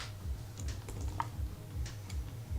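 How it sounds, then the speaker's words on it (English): Rapid computer keyboard typing, clicky keystrokes in short irregular bursts, heard close over a steady low hum during a live stream. "That's Waddy typing stuff into chat"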